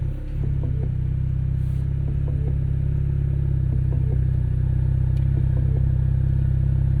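A 2024 Ford Mustang EcoBoost engine runs at a steady, loud idle just after starting, a deep droning exhaust hum with a faint ticking clatter layered on top and no voices.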